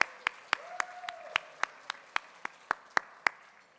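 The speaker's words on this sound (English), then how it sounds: "Give yourselves an amazing round of applause." At an annual awards gala, sharp, evenly spaced claps ring out one after another in a steady rhythm, about a dozen crisp hits with a brief voice sounding faintly in between.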